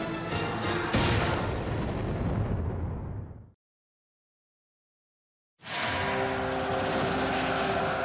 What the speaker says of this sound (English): A barrage of enemy fire rattles an Allied trench.